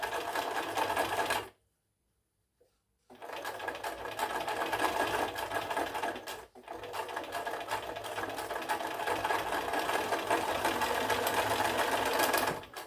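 A sewing machine stitches a fabric sample in steady, loud runs, with a pause of about a second and a half near the start and a brief break further on, and no talk.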